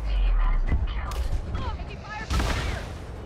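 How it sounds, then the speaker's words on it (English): Enemy gunfire in a video game: a few loud, booming shots land in quick bursts at the start and again near the end, with a voice talking over them. "Somebody's firing at me."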